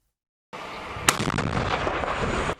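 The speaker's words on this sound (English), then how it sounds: "As both sides exchange artillery fire along Ukraine's eastern front" Artillery fire on Ukraine's eastern front in wartime: after a moment of silence, a sharp, loud blast hits and then trails into a sustained, rumbling roar that slowly fades.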